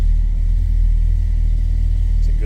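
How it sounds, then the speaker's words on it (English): A 1968 Chevrolet C10 longbed pickup engine runs at a loud, steady idle, a deep close rumble with an even rapid pulse and no audible revving. "let's turn this truck over and see how it sounds"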